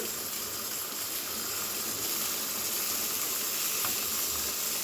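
Whole cumin seeds tempering in mustard oil in a kadai give off a steady, broad hiss and sizzle, constant and close with faint crackles throughout.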